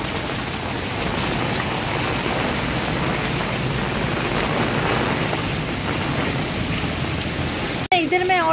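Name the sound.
heavy rain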